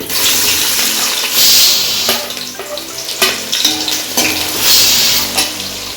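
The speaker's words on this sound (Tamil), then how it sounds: "இப்போ 3 பெரிய வெங்காயம் எடுத்துருக்கிறேன், அதை சேர்த்தலாம்." Onions for mutton biryani drop into hot oil and sizzle loudly up close, with clattering spoon stirs and intermittent surges of frying hiss; no one speaks.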